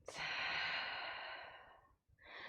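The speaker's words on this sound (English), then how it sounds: "And a deep breath out." A slow, deep breath out during seated chair yoga, one soft airy exhale lasting about two seconds and tapering off, close and quiet, followed by the start of another breath.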